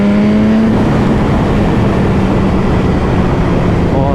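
A BMW HP4 superbike accelerating hard in first gear, its engine a loud, rising roar under wind rush that climbs steadily in pitch, recorded close from the rider's position.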